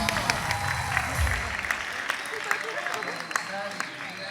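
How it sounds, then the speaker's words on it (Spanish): A crowd applauds steadily at a school festival, with scattered sharper claps standing out over the continuous clapping. "Quiero que le demos un fuertísimo aplauso a Thalía Leighton."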